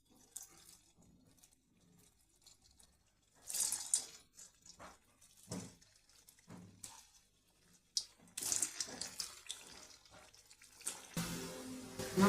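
Taro fritters dropped into hot oil in a wok hiss and sizzle, with intermittent splashy bursts that build into a denser, continuous frying crackle toward the end, close by and without talk.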